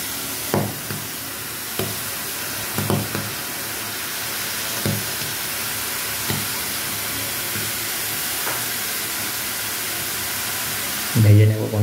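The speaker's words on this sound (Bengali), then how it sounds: "চলুন এখন ভেজে নেব" Jaggery jalebi batter deep-frying in hot oil gives a steady broadband sizzle throughout, punctuated by several brief louder bursts of bubbling and spatter, with a final surge near the end.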